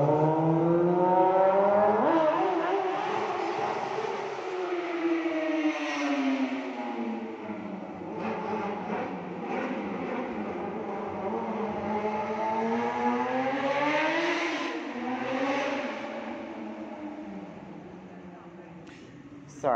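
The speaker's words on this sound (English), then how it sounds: "testosterone-fueled motorcycle driver thinking that it's important for the whole neighborhood to hear him" A motorcycle revs and roars past through a residential neighborhood, the engine pitch rising and falling in long sweeping waves over nearly twenty seconds, fairly distant and moderate in level.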